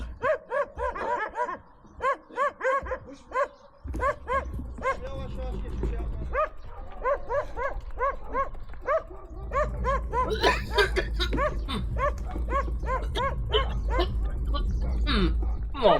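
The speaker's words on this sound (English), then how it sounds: "There's one more problem to contend with in Turkey, and that is the dogs." Stray dogs in Turkey bark repeatedly at a passing cyclist, a rapid series of loud, close yaps and barks with some whimpering, over steady road and wind rumble with a voice briefly heard.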